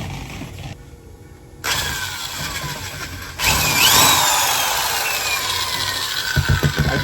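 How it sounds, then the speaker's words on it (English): Power drill boring holes for a homemade fog chiller, the motor starting and running loud and steady for several seconds after a quieter stretch, with a few rough chattering bursts near the end. "and just start drilling."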